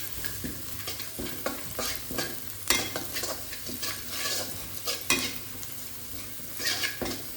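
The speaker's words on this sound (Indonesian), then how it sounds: "Kita aduk sampai rata" A spatula stirs nasi goreng in a pan, scraping and tossing the rice in irregular strokes over a continuous close, crackling sizzle.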